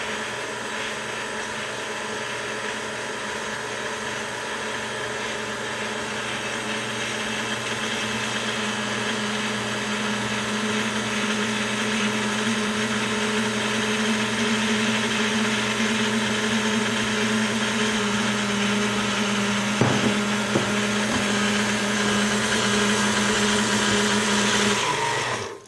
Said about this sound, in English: turn the machine on to medium-low and slowly beat in the dry ingredients until they're combined